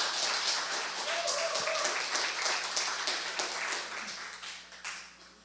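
A church congregation clapping, a dense wash of applause from many hands in a hall, fairly loud and fading toward the end, with voices talking underneath.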